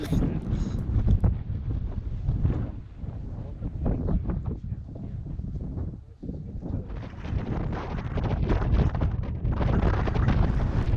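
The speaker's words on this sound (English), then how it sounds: "it's a bit windy" Strong wind on an exposed Scottish wilderness expedition buffeting the microphone in loud, rumbling gusts that briefly ease around the middle before roaring back.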